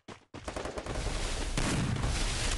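Gunfire in the Free Fire mobile battle game, a Desert Eagle pistol among the weapons, comes as a sharp burst after a brief gap and then a dense, loud rattle of shots and booms running without pause.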